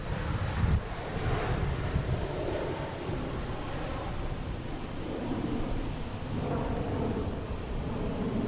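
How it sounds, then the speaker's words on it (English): Airbus A321 taking off from Boston Logan, its jet engine roar broad and steady for the whole stretch, fairly loud and constant in level with no voices over it. "It says it's landing, but it's actually taking off. It's an A321."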